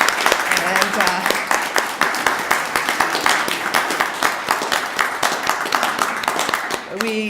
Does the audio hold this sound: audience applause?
yes